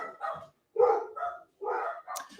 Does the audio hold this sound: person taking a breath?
no